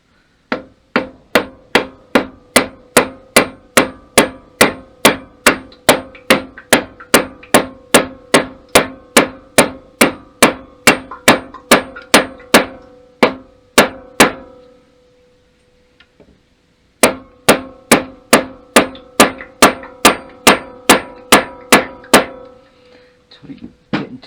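A nylon hammer taps a belt drive clutch onto a BSA B31 motorcycle: a long run of evenly spaced, sharp, close strikes, a short pause, then another steady series of blows.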